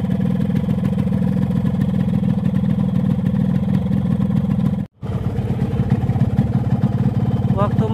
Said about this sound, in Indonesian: Dan suara mesinnya juga adem-adem aja